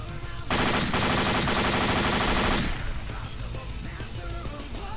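Machine gun fire in the military video game Arma, a loud sustained automatic burst lasting a couple of seconds, then cutting off to scattered distant shots and battle ambience.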